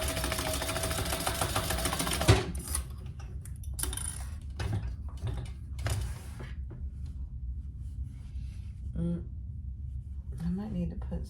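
A sewing machine bastes fabric in place with a loud rapid stitching buzz at the start, then intermittent short bursts of stitching and clicks while a person talks throughout.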